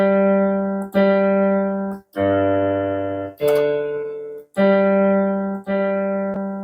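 A shruti box sounds a steady reed drone on lower-octave Sa, lower-octave Pa and middle-octave Sa, held in sustained sections that swell and break with the bellows strokes, rich in harmonics and heard alone without voices.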